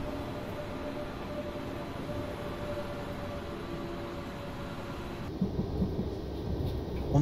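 ICE 2 high-speed train pulling into Mannheim main station in Train Simulator: a low, steady rolling rumble with faint tonal whines, growing slightly louder with a few clunks near the end.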